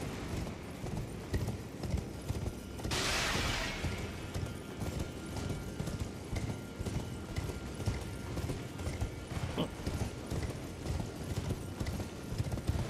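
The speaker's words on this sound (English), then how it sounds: "Glad you can ride your horse in here." Horse hooves clip-clopping steadily as a mount is ridden indoors in the video game Elden Ring, a continuous close rhythmic patter with a brief burst of crashing noise early on, no voices.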